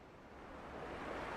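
Small sea waves washing onto a sandy beach, heard as a soft, steady surf wash that swells gently toward the end, faint and without voices.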